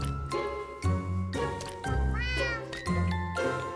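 Several cat meows in a Minecraft game, rising and falling cries repeated in close succession over about four seconds, fairly loud and near, with a faint jingling in the background.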